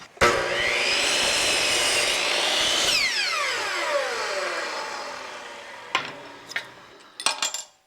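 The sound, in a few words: drilling through Starboard with a modified 3/4 inch wood bit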